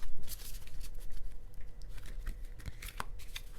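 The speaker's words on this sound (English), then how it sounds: "So let's do a shuffle and then we'll get our last card." Nature Whisper oracle cards are shuffled by hand in a quick run of crisp riffling and flicking bursts, close and uneven, with no talking over them.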